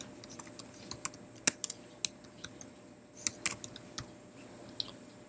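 Sharp, irregular keystrokes on a computer keyboard, quiet and close, with scattered clicks and brief pauses and no talk.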